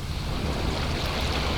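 Ocean waves captured as a binaural ambisonic recording with the microphone placed a little above the surf, a steady broadband wash of breaking water and rushing foam, full and even throughout with some low wind rumble and no voices.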